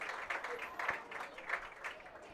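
A homecoming crowd at a high school football game applauding a center, a steady distant patter of many hands under faint speech.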